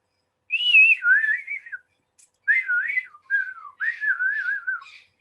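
A person whistles in wavering, sliding tones, imitating wind whistling around the edges of a log home, in three or four short phrases with brief pauses between.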